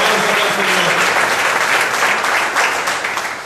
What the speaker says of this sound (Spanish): Aplausos al Creador